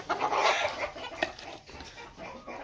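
Chickens clucking while eating feed, several birds giving close, irregular clucks and short calls in a cluster, louder at the start and then scattered, with no talk.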